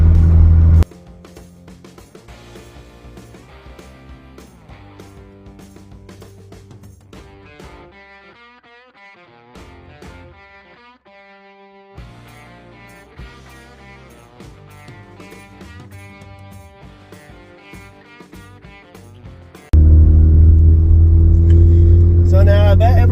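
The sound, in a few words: Honda Civic engine accelerating during fuel test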